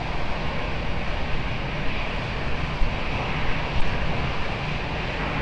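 An airliner landing on runway 20 at Lisbon Airport makes a loud, steady, broadband engine roar that holds evenly throughout, with no talk.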